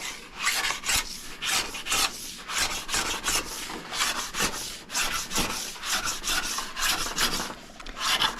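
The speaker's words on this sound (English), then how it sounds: "if I see my file that's hitting center" A hand file rasps back and forth along a ski's base edge in steady, close strokes, each pass a gritty scraping swell repeating roughly twice a second without pause.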